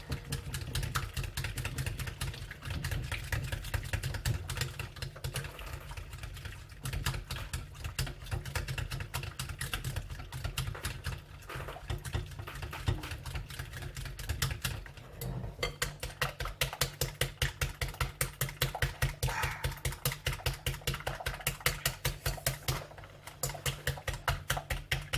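Homemade mayonnaise being whisked by hand in a bowl as oil is added, a rapid continuous clatter of whisk against the bowl that runs steadily and close for the whole stretch.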